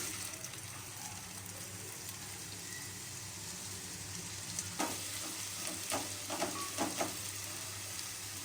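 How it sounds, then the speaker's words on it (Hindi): Chopped medium-sized onions sizzle steadily in about four tablespoons of hot oil in a pot while cooking black chickpeas, giving a continuous dense crackle with a few louder spatters toward the end. "तेल गरम हो गया है। अब मैं यहाँ दरमियाने साइज़ की इस तरह चॉप प्याज को डालूँगी।"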